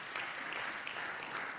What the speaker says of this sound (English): Kenyans, you must clap for yourselves